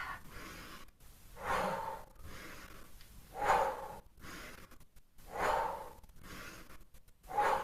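Deep, slow breaths in and out during a gentle stretching exercise, four audible airy inhalation and exhalation swells in an even rhythm, close and soft with quiet pauses between.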